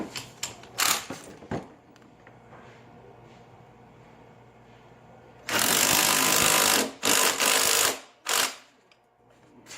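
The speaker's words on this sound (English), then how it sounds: "Tightening down the handlebar's center bolt most of the way with the impact driver." An impact driver hammers at a BMX handlebar's centre bolt in loud, rattling bursts, a long two-second run followed by several shorter bursts, with quieter clicks and handling before.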